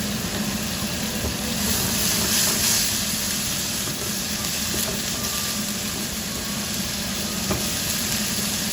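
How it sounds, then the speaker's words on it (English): Pork sizzles steadily in a hot pan with no added oil, its own fat frying in a loud, continuous hiss with faint crackles and no talking. "After the pan has heated, add the pork and start to fry."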